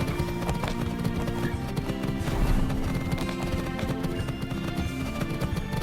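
Horses galloping in the video game Horse Club 2, a steady rhythmic clip-clop of hooves with an occasional whinny, set against a continuous layer of music.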